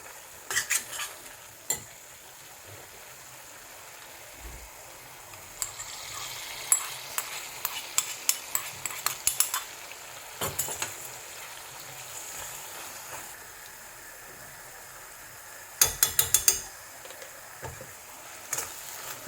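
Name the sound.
cashew nuts frying in ghee in a pan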